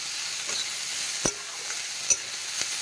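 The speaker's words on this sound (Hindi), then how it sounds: "इसको तेज आंच पर ही फ्राई कर रही हूँ।" Onion fries on high heat in a pan, a steady close hiss of sizzling oil broken by a few sharp clacks of a stirring spoon against the pan, with no talk.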